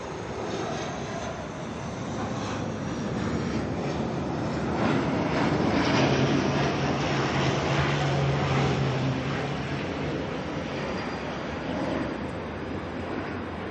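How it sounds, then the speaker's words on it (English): An ATR turboprop airliner from Palmerston North runs at Auckland Airport, a steady distant propeller drone that grows slightly louder midway with a low humming tone, heard alone without talk. "ATR from Palmerston North here."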